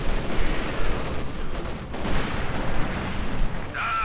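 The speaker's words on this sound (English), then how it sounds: "Conscripts tearing into them with their submachine guns." Dense submachine gun fire from conscripts in Company of Heroes 2 rattles on continuously amid a loud, busy battle din, with no clear talk.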